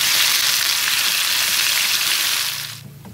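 Liver frying in coconut oil while being stirred, a loud steady sizzle with a bright crackling hiss that holds evenly and then drops off sharply near the end.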